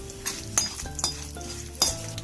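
A quiet sizzle of tempering spices and dried red chillies in oil in a pan, punctuated by a few metallic clinks and scrapes of a spoon stirring, close by.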